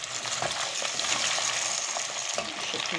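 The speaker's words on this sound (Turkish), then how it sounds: "Şimdi yavaş yavaş kızartacağım." Loud, continuous sizzling of potatoes frying in hot oil in a pot, with intermittent scraping and stirring sounds close up.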